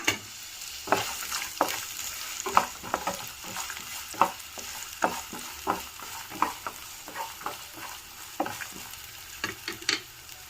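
Sliced onions and green chillies stir-fry in hot oil with peanuts for a potato capsicum curry. A soft sizzle runs underneath repeated scraping stirs of a spatula against the pan, close and fairly quiet.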